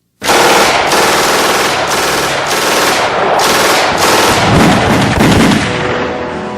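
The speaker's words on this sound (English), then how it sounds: "the high cyclic rate of fire of that machine gun sounded like a sheet being torn in two" A German machine gun fires at a high cyclic rate in loud, close, continuous ripping bursts with brief gaps, the shots blurring into a tearing roar.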